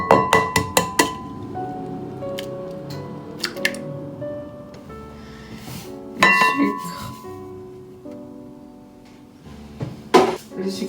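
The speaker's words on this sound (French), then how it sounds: "je vais mélanger avec une fourchette" Fork clinking against a bowl while mixing sugar and a large egg for sablé biscuits, a run of quick sharp taps at the start followed by scattered clinks and scraping, with soft talk in the background.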